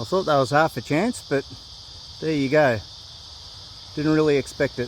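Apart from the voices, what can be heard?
cicadas chirping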